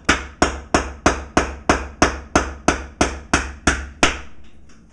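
A thick nail is driven in by brute force with a hammer: eleven sharp, evenly spaced blows in quick rhythm, loud and close, each ringing briefly before the next strike.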